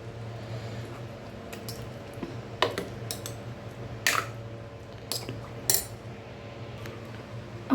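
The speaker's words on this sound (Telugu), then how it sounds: "ఇది మొత్తం మ్యాష్ చేసుకోవాలి. పప్పు గుత్తితోటే చేసుకోవాలి." Cooked dal for Nellore-style pappu charu is mashed in a pot with a wooden masher. Quiet, scattered soft clinks and squishy knocks come at irregular intervals over a low, steady background hum.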